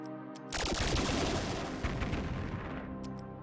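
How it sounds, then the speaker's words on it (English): Booming, crackling blast of the mighty D-cannon firing in the 1999 strategy game Warhammer 40k: Rites of War, a loud sustained roar of explosive gunfire-like noise lasting about three seconds after a brief quiet start. "Fear the mighty D-cannon as it obliterates you."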